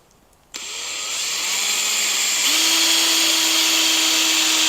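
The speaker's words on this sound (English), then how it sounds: "I have an abrasive pad attached to my drill" A power drill fitted with an abrasive pad spins up and whines steadily, rising in pitch, as the pad grinds continuously against wooden beehive equipment up close, cleaning the surfaces for repainting.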